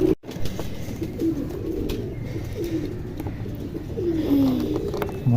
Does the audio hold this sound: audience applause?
no